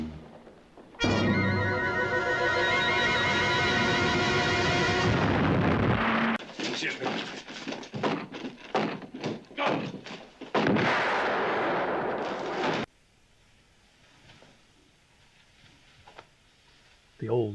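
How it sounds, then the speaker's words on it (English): An exploding cue ball from the 1965 TV series The Wild Wild West goes off in a loud, sustained blast, followed by a run of sharp bangs and crackling debris, then a near-silent tail and a faint thump at the end. "The old exploding cue ball trick."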